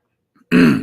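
A single short, gruff throat clearing close by, preceded by a faint brief noise.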